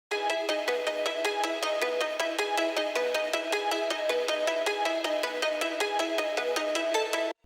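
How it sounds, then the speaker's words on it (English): A plucky synth melody from the original stems of a melodic dubstep remix plays alone, with rapid evenly spaced bright plucked notes in a steady repeating pattern, loud and close throughout with no voices. "the plucky melody from the original stems"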